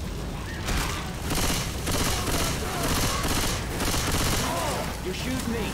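Rapid bursts of gunfire from the video game Left 4 Dead 2, a dense, steady fusillade running throughout with continuous loud shooting, while players talk over it.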